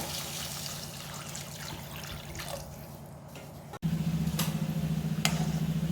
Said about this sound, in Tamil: தேவையான அளவுக்கு தண்ணி ஊற்றிக்கோங்க